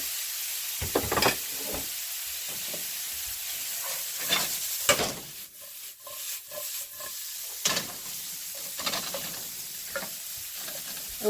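Pork sautéing with onions and garlic in a hot pan for fried rice: a steady, hissing sizzle with several bursts of louder scraping and stirring clatter, and no talking.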